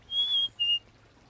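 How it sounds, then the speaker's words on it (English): Two clear, high, thin whistled notes from a lesser goldfinch in a backyard, the first slightly rising and the second shorter, heard close against a quiet background. "That's a lesser goldfinch."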